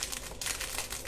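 An oregano packet is snipped open with scissors, giving close, dry crinkling and rustling of the packet film in a short continuous burst.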